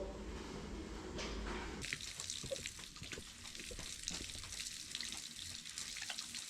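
Hot, steamy water gushes steadily from a tap in a shop after a brief lower rumble, a continuous splashing hiss close by with no talking.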